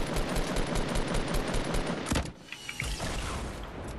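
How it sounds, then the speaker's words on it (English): Rapid automatic gunfire fills the first two seconds of a Fortnite squad match as a dense, loud burst of shots, then drops away to scattered quieter sounds. "destroy that and I'll shoot the rocket"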